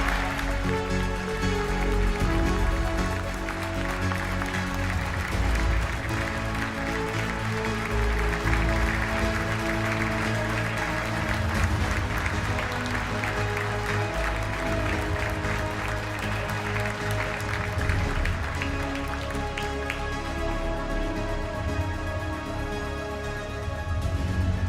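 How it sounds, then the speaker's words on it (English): Loud, sustained applause from a large crowd at the Red Bull Faster Grand Finals, steady clapping that fills the whole stretch without letting up. "give a round of applause for Massa!"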